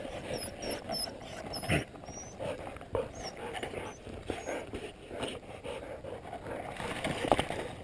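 Hunting dogs at a wild boar pant and whimper steadily up close, with scattered rustling and a few sharper knocks, while high bird chirps sound faintly overhead.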